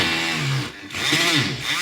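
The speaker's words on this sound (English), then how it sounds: "With it being hardboard there, I'm going to drill a hole to start with." A small drill whines in short bursts as it drills a hole through hardboard, its pitch rising and falling, with a brief pause midway; close and fairly loud.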